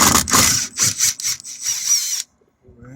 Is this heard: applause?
no